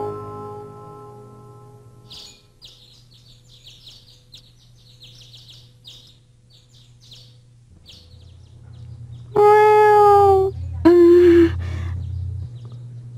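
A cat gives two loud, close meows in an animated scene. The first is long and falling in pitch, the second shorter, both over a quiet low hum.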